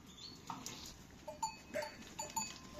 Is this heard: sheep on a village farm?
yes